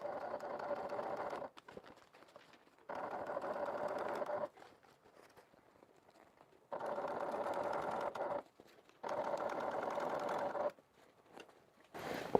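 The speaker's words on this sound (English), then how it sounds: "make sure the flap is pulled nice and tight as I stitch" A sewing machine stitches the flap of an evening bag in four steady mechanical bursts of rapid whirring, close up, with quiet pauses between runs.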